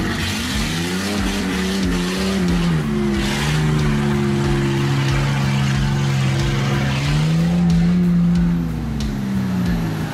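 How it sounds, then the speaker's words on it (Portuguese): Off-road vehicles on a muddy trail at Guaramirim, pulled uphill by a Willys pickup's winch, with a loud, close engine drone that rises and falls in pitch as it strains steadily for the whole stretch. "No guincho da picape Willys, finalmente foram subindo devagar"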